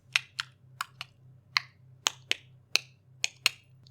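Tongue clicking that imitates Morse code: about a dozen sharp, crisp clicks in an uneven rhythm, close and clear over a faint low hum, with no talking.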